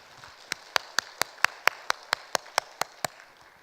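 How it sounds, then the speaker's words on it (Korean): Church congregation at a New Year revival service clapping in unison, about a dozen sharp, evenly spaced claps in a steady rhythm, with no voices over them. "하나님께 영광의 박수를 올려드리겠습니다"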